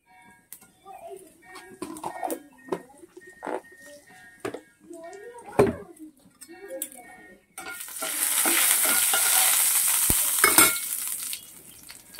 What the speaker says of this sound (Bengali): একটু বসিয়ে দিয়েছি ননস্টিকটা, সামান্য তেল দিয়ে দিলাম। সামান্য জিরে দিয়ে দিলাম।